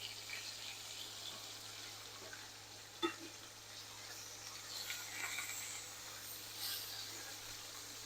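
Steak searing in a cast iron pan, a faint, steady sizzle and hiss under a low background hum, with a single soft click partway through.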